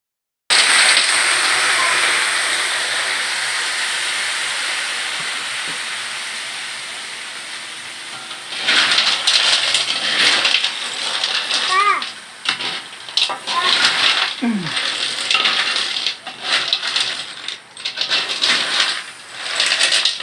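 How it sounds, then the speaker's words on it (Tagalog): Bagungon being sautéed in cooking oil, a steady loud sizzling hiss that runs throughout, with clatter and stirring noises joining in partway through and a voice talking over the frying. "ginigisa na ng mantika yung ating ulam ngayon na bagungon"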